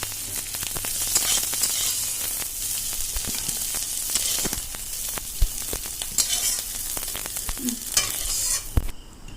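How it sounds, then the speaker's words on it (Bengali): Snails being lightly fried in a pan crackle and sizzle steadily, broken by repeated scraping and knocking of a spatula stirring them, with no talk. "শামুকগুলো হালকা ভেজে নেব"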